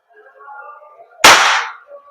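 A WE P14 full-metal airsoft gas blowback pistol fires a single loud, sharp crack with a brief hiss of gas trailing off, following a stretch of low murmuring voices.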